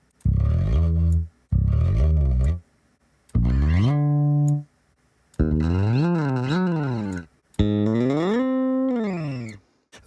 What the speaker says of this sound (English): These are actual recordings of bass performances, various sliding techniques.